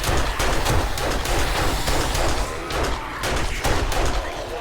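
Rapid, sustained gunfire aimed at a screamer zombie in the game 7 Days to Die, with loud shots cracking out in quick irregular bursts back to back and barely pausing.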